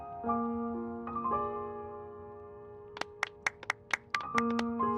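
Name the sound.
applause in the video game Genshin Impact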